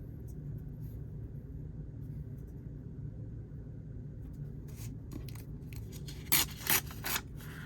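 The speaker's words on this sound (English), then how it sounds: "So we'll go ahead and tear it right about here." Paper is torn by hand for journal tags in a quiet craft room: a few short, close ripping bursts arrive near the end over a low steady room hum.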